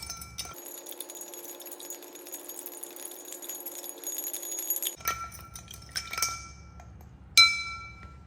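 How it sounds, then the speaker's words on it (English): A large ice rock clinks against a glass as an añejo Old Fashioned with chocolate bitters is stirred, giving bright, ringing taps and scrapes, fairly close, with a sharper clink near the end. "Now you're going to want to add your large rock of ice, and we're going to stir this for about 30 seconds."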